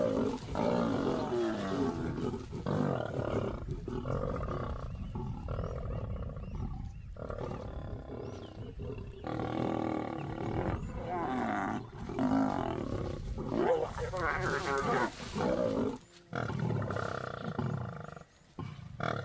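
Male lions roar loudly and continuously as they reclaim a kill in the African bush, deep rumbling calls with growls overlapping one another, close and powerful throughout.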